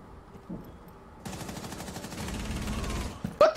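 Rapid automatic gunfire from the Rainbow Six Siege video game bursts in after a quiet start, a dense rattling stream of shots lasting about two seconds before a sharp clatter at the end.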